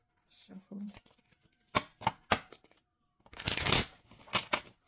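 Deck of reading cards shuffled and split by hand, short crisp riffling and tapping bursts in a quiet room, with a voice speaking briefly.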